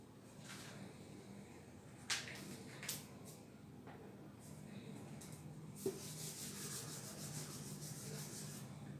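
A pen writes a Telugu letter on paper, giving soft scratchy strokes with a few sharper taps, quiet and close, with no talk over it.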